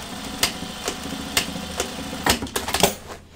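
A sewing machine top stitching pull-on jeans runs in short bursts, its mechanical clatter punctuated by sharp ticks and knocks, close and fairly loud with no talking.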